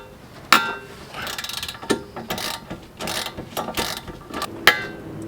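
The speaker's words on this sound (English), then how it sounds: "I'm actually gonna take these two 12mm bolts off." Ratchet wrench clicking as two 12mm brake caliper bolts come off an Acura RSX Type S, a mix of quick ratcheting bursts and sharp metallic knocks, close up with no talking.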